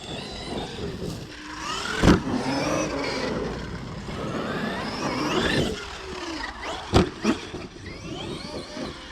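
An X-Bug buggy running on its original engine revs up and down in rising and falling whines, with two sharp bangs cutting through along the way.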